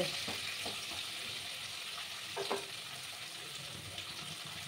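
Pointed gourd (potol) pieces frying in oil for potol korma, a steady soft sizzle running throughout at low level, with a few faint clinks and stirring touches breaking through now and then.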